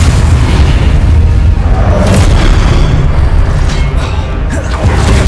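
Repulso spell cast in the video game Hogwarts Legacy, a loud booming blast with a rumbling low-end burst that fills the whole moment, followed by crackling debris-like noise.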